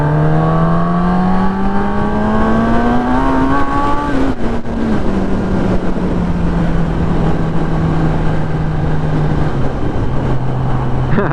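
A 2018 Kawasaki ZX-10R motorcycle accelerating hard, engine pitch climbing steeply, dropping at a quick gear shift, then holding a loud, steady high-revving drone with another shift near the end, close and alone.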